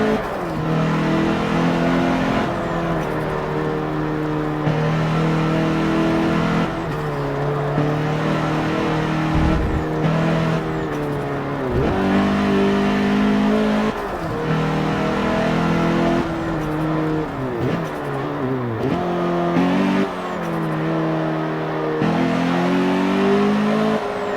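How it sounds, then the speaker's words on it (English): A new car engine revs and drives continuously at steady high volume, with pitch rising and falling through the gears and some tire noise, heard alone without talking. "Yeah, it's definitely a new car."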